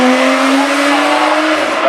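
An Aston Martin race car at the Goodwood Festival of Speed 2019 hill climb brakes into a corner, giving a loud, close, sustained engine roar with a strained squealing tone held throughout, no voices.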